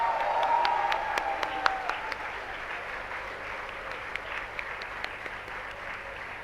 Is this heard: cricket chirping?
no